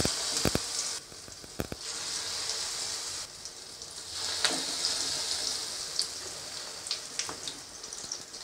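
Gram flour, egg and onion pakoras fry in hot oil, giving a steady bright sizzle scattered with sharp crackles and pops, close by and with no talking.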